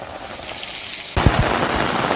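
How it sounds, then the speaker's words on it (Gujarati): Heavy monsoon downpour in Gujarat, a dense steady hiss of rain that abruptly swells louder about halfway through, with heavier splashing drumming on surfaces. "2 દિવસ બાદ ફરી ધોધમાર વરસાદની શરૂઆત થઈ"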